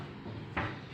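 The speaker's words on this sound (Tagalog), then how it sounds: "yung drawer guide na full extension ang tawag natin dito sa drawer guide na ginagamit natin. Maganda siya, malambot siyang tulak" A wooden drawer in hardwood yakal, narra and ipil furniture runs on a full-extension drawer guide, giving one short, soft sliding rush that stands briefly above a steady room hum.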